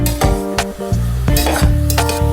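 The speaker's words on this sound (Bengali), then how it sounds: "আবার একটু ভালো করে নাড়াচাড়া করে নিতে হবে।" A spoon stirs chicken Manchow soup ingredients, spiced with ground black pepper, in a hot pan over a steady sizzle, with repeated scraping strokes and sharp clinks against the metal, loud and close with no talking.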